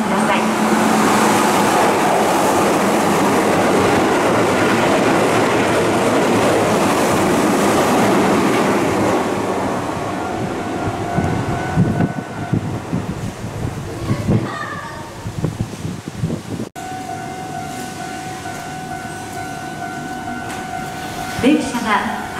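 A Keihan electric train rumbles loudly through a station, its steady roar fading after several seconds, leaving quieter platform noise with announcement tones and voices.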